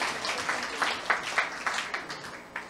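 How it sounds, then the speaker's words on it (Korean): Applause from a seminar audience, a soft scattered patter of claps with uneven bursts, moderately distant and fairly quiet, with no talking over it. "이분 대단하신 분이네. 박수 한번 보내주세요."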